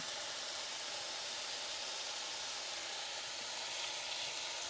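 Hamburger steak patties sear in a hot pan with a steady, dense sizzle and hiss that holds even and close throughout, with no voices.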